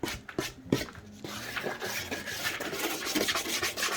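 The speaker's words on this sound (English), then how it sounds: "I like this grittier metal brush, so especially on the curves" Gritty metal brush scratching across a snowboard base during tuning, a steady close rasping rub with a few sharper strokes at the start, alone without talk.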